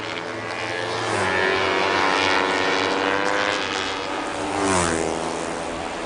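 Racing motorcycles, among them a KTM RC390, scream past on a circuit during a national championship race, engines rising and falling with Doppler sweeps as they pass close.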